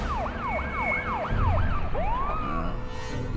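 Police sirens from the Batman Begins video game on PS2 wail with a rapid rising-and-falling yelp, then shift to a longer sweeping tone over steady engine and street rumble, moderately loud and continuous.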